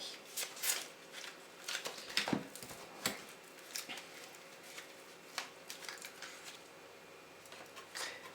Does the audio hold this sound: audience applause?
no